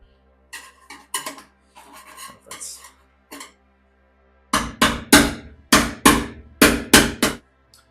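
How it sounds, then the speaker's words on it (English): A chisel breaks a weld loose on the front apron of a 1968 VW Beetle. Light scraping and tapping give way to a run of about seven loud, evenly spaced metal strikes close by. "I used the chisel and broke that weld loose"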